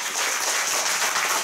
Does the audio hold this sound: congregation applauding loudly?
yes